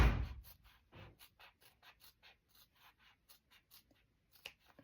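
Scissors snipping into the corners of PU faux leather around a zip pocket: a quiet string of short, crisp cuts at a steady pace, close up, with no voices.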